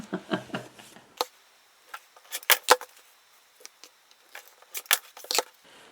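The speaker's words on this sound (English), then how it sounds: "Let's trim it and get it really nice because it deserves niceness." Scissors trimming quilt fabric selvage strips, a rapid series of close crisp snips in short bursts with brief pauses between them.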